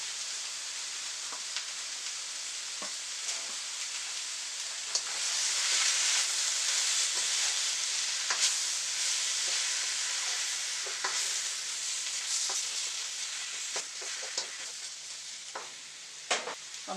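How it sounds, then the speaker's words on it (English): Zucchini and shrimp with tails on stir-fry in a hot pan, giving a steady loud sizzle with occasional scrapes and clicks of stirring throughout, and no voices. "I've stir fried it just a little bit to ensure that the zucchini cooks at least half the way"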